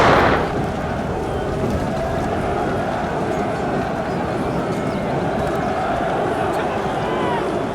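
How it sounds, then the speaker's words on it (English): Sustained battle din from a Total War game recreating the 1879 Anglo-Zulu War at Isandlwana, a loud dense rumble of massed gunfire and artillery that holds steady throughout, opening with a sharp burst. "Hearing the gunshots"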